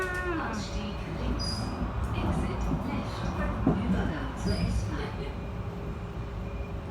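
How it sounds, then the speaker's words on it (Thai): Steady rumble and rolling clatter inside a German electric train riding through Hanover, continuous and moderately quiet, with occasional faint higher squeals and tones. "รถไฟฟ้าของชาวเยอรมนีค่ะ"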